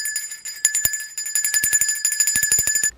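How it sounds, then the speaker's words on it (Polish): A small red bell jingles in quick repeated shakes, bright and close, with a short pause early on before steady ringing. "Dzwonek! Bardzo ładny czerwony i uwaga, czas na test."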